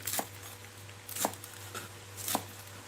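Knife chopping leaves for a Thai curry of young leaves, three sharp separate strikes on a board about a second apart, close and fairly quiet over a steady low hum, with no talk.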